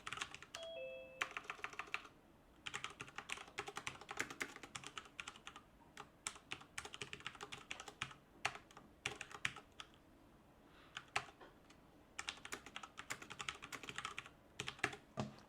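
Fast, quiet clicking of a computer keyboard as a program is written, irregular bursts of keystrokes with brief pauses, close and faint, no talking.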